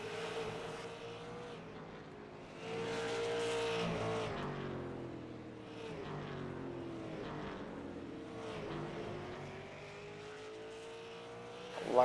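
Dirt super late model race cars roar around the track, engines rising and falling in pitch as they pass, a steady loud drone with surges, no talk over it.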